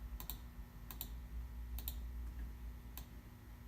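A few sharp computer mouse clicks and Shift key presses, spaced apart in small pairs, close but faint over a low steady hum, no talking.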